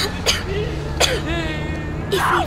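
Character in Call of Duty: Modern Warfare (2019) gives three harsh, close coughs or throat-clearing bursts spaced about a second apart, with faint voices murmuring underneath.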